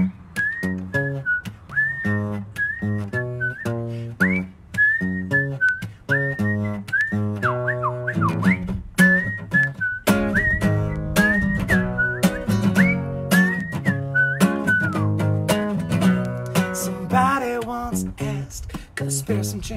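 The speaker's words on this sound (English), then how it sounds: "here's your time to redeem yourself if you skip the whistling in the last song." A person whistles a song melody alone, a clear, close, continuous run of phrased notes with short breaths between lines.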